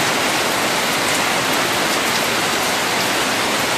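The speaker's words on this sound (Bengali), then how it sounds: "সকালবেলা বৃষ্টি হওয়ার পর আবার এই বিকেলবেলা আবারও সেই বৃষ্টি" Steady, dense afternoon rain pours down on surfaces nearby as an even, loud hiss that does not let up, with no voices.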